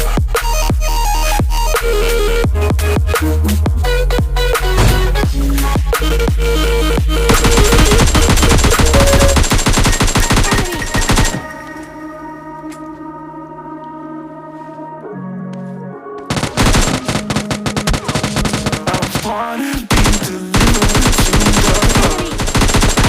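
Rapid bursts of M4 rifle fire from PUBG Mobile Lite rattle loud and close, with some sustained automatic strings, a quieter stretch with a musical game tone, then more heavy shooting.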